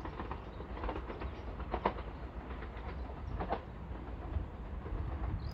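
A steady rumble of a train rolling past at a distance on the Fen line at Ely, with faint rhythmic clatter of wheels and a bird calling briefly.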